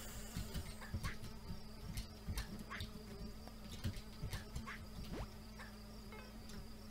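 A fly buzzes steadily through a stretch of Red Ball 4 gameplay, its drone constant and fairly close, with scattered short game effects popping over it.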